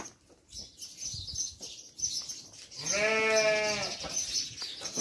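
Sheep bleat on a farm where ewes and lambs are being sold, one loud, clear, wavering bleat standing out near the middle over quieter farmyard background noise and a faint call from another animal.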